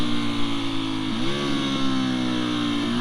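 A motorcycle engine, a big single-cylinder thumper, runs steadily, then its pitch dips and climbs as it revs hard during a power wheelie attempt, loud and close, with no talking.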